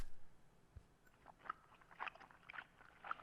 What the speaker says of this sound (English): That's what the chewing noise is.